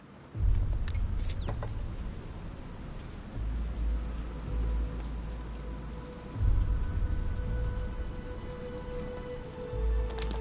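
Steady rain pours down in a continuous hiss in a PS4 video game, with low rumbling swells coming and going underneath and a few faint tonal sweeps.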